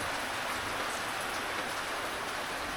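Rain sweeps up a mountain valley as a dense, even hiss of falling drops, continuous and fairly close, with no voices.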